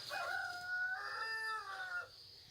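A broody hen on a nest of hatching eggs gives drawn-out, warbling clucks and low moaning calls close up, a single sustained vocal phrase lasting about two seconds before fading into quiet.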